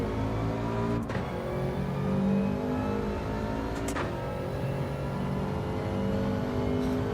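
Race car engine in Gran Turismo 7 during a USA daily online race, a steady loud drone with rising and falling revs and a couple of brief gear-shift blips, no talk over it.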